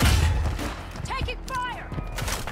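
Gunfire in Call of Duty: Modern Warfare II, a loud burst of shots opening the moment, followed by scattered impacts and game effects while a voice speaks over the action.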